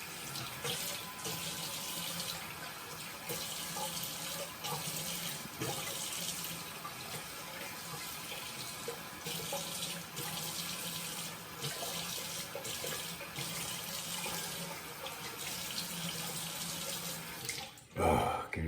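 Steady running tap water pours into a sink while a razor is rinsed, a continuous close hiss with small fluctuations and a brief clatter near the end; no voices.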